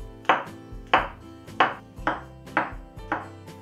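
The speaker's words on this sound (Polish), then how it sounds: "Pieczarki kroję w plastry." A knife slices through mushrooms on a cutting board in six evenly spaced, crisp cuts, each ending in a sharp knock on the board, close and clear with no talking.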